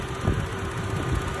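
Car engine idles steadily near 800 rpm during an idle speed adjustment, a low even hum with a slight pulsing rumble.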